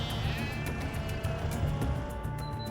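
Sheep bleating in a lush pasture with grazing goats nearby, a few wavering calls standing out over a steady low background rumble of wind or a passing vehicle.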